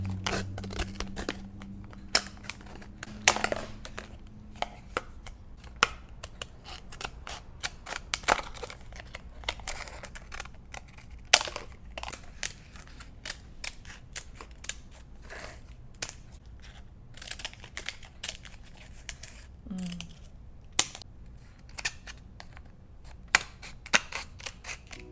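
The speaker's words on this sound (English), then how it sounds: "Okay, first we have to cut these apart." Sharp snipping clicks of scissors repeat irregularly, close and crisp, cutting apart thin plastic instant ramen packets with faint rustling between cuts.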